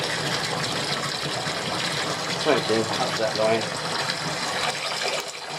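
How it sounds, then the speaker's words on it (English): Tap water pours steadily into a laundry basin for the final rinse, a constant gushing rush with people talking over it. "So we fill that up and do the final rinse for everything."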